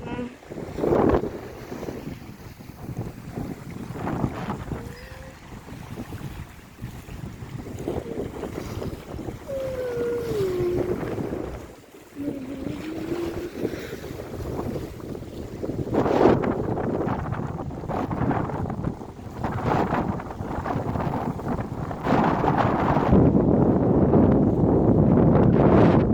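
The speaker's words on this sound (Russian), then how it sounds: "Волна, волна, волна." Stormy sea waves crash and wash along the Yalta embankment in Crimea under strong gusting wind buffeting the microphone, a loud continuous roar with surging swells over about twenty-six seconds.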